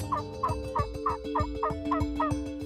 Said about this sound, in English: we're going to hopefully hear some gobbling